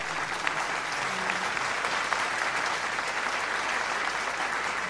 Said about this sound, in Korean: 반기문 전 유엔 사무총장에게 큰 박수를 부탁드리겠습니다